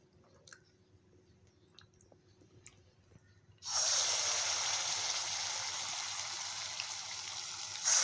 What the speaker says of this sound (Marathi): कढईमध्ये असे भजी सोडून घेते